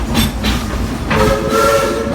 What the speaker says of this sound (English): give me 3 toots on that whistle